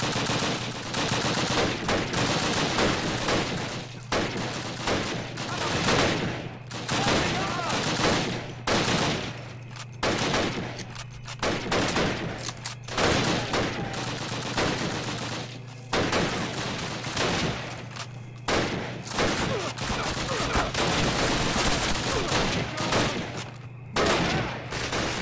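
Rapid bursts of gunfire from a German patrol in Call of Duty: United Offensive, loud and sustained, with repeated volleys and brief gaps over a steady low in-game hum.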